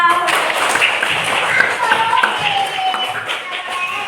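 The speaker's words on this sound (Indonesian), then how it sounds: "Oke, tepuk tangan buat kita semua." A primary school class applauds together, a brisk burst of clapping and tapping hands close by that carries on steadily, mixed with voices talking over it.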